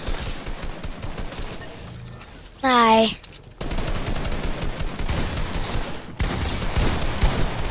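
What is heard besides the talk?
gunfire shots in a video game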